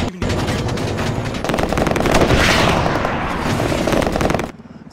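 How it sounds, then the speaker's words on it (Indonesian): Heavy bursts of rapid gunfire crackle continuously for several seconds, loud and dense, then cut off abruptly, as a helicopter is fired upon in an action film. "Dari udara, helikopter yang akan melakukan evakuasi mendapat serangan tembakan dari anak buah Zayeb"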